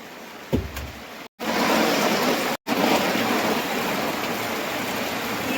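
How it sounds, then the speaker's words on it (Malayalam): A heavy downpour roars as a dense, steady hiss close by, continuous apart from two brief cuts, with no voices. "നല്ല മഴയാണ് ഇരിഞ്ഞായ മഴ പെരിക്കാച്ചി മഴ ഞങ്ങൾ പെട്ടുപോയി"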